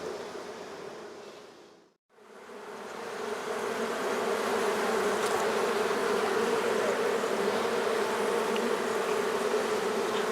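A dense swarm of honey bees drones loudly and continuously during a hive removal, the buzz dropping away briefly near the start before returning at full, steady strength.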